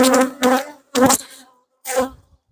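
Honeybees from a gentle colony buzz during a hive inspection, in three loud, close bursts separated by short pauses, as if bees are flying right past.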